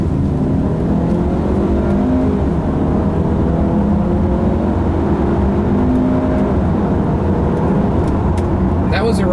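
A 2015 Range Rover Evoque in sport mode and manual shift mode under hard acceleration, loud steady engine drone with rising tones through the gears, heard from inside the cabin.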